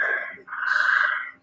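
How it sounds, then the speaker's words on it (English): Frogs croaking in a steady, close, trilling chorus that barely dips before carrying on for about a second and a half, with no voices over it. "And they're the frogs singing"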